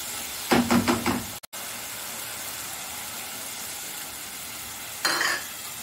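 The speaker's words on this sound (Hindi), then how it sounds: "आप इसे स्लो फ्लेम पे थोड़ा पका लीजिए, अच्छे से रोस्ट कर लीजिए मसालों को ताकि इसका कच्चापन निकल जाए।" Masala with green chili roasting over a slow flame for egg curry, with a few quick scraping stirs and a low steady sizzle that runs through the pause, then another brief scrape near the end; no talking.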